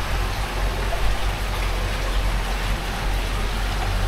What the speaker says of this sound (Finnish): Vettä kuuluu.